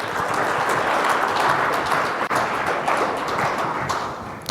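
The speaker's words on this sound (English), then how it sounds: "Big round of applause for Michael Monteforte." Applause fills the room as a speaker is welcomed on stage at a talk, a dense, steady clatter of many hands that stays loud throughout with no voices over it.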